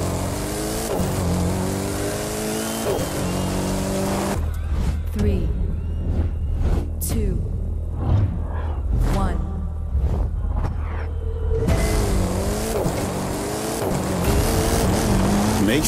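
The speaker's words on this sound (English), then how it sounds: "you'll be driving a Mercedes X-Class pickup truck, and so will the competition" Mercedes-Benz X-Class pickup trucks race in The Crew 2, engines revving loudly and steadily at the start and end, with a voice talking over the middle stretch.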